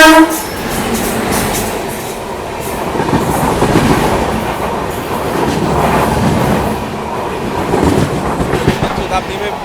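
The Jan Shatabdi Express passes, heard from aboard the moving Trivandrum Rajdhani Express: a loud, continuous rumble of wheels clattering over rails, with a horn sounding at the start and swelling roar as the trains cross.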